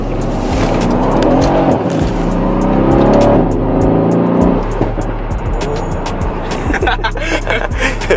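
Mercedes C63 AMG rear-wheel-drive car accelerating hard, a loud, sustained engine surge rising through the first few seconds inside the cabin, then a lower steady drone with faint tire and road noise.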